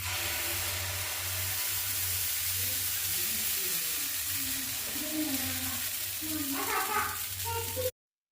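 Ragi dosa batter sizzles on a hot pan in a steady, close, broadband hiss that lasts throughout, with faint voices and light kitchen clatter building toward the end.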